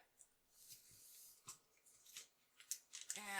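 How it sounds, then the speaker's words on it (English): Adhesive strips are peeled off their backing in a few short, quiet tearing and crackling bursts with pauses between them, heard close up in a quiet room during disc-bound notebook making. "So I'll peel all of these up."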